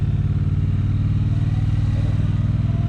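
A Triumph Bobber motorcycle rides on wet roads in the rain, its engine thrumming in a steady, rapid pulsing beat, loud and close with no talk over it.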